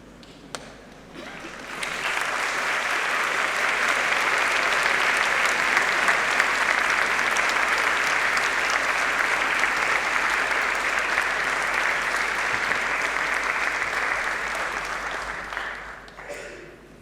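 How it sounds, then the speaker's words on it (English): Graduates at a University of Manchester graduation ceremony stand and applaud their supporters, producing a long, dense wash of clapping from a large hall audience that holds steady for many seconds before tapering off. "give a round of applause to those who've supported you through your studies"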